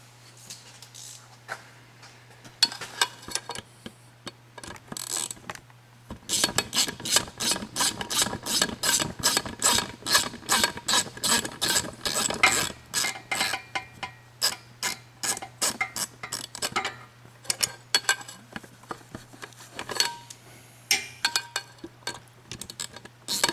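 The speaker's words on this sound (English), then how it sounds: "remove those two screws using a 10mm socket" Hand ratchet with a 10mm socket loosening screws on a 2015 Mustang's shifter, close up, with short bursts of rapid clicking, a long run of steady ratcheting in the middle, then more scattered clicks over a constant low hum.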